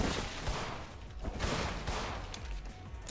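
Rapid bursts of gunfire from the horror video game In Sound Mind, several loud overlapping shots in quick succession under a dense, reverberant roar, with no talking.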